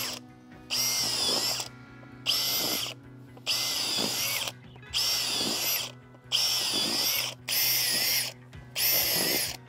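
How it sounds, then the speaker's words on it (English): A power drill whirs in repeated bursts into lawn soil for aeration, about seven evenly spaced runs of roughly a second each with short pauses between, close and loud. "So you take your drill."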